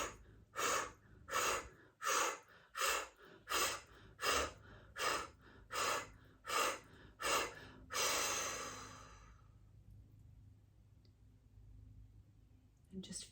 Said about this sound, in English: we'll breathe out this fire breath, breathing out the candles on the birthday cake together here